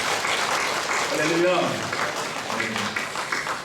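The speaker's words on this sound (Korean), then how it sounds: "감사의 박수를 한번 올려드리겠습니다" A congregation claps during a Korean church thanksgiving service, the applause swelling under a voice as he keeps speaking.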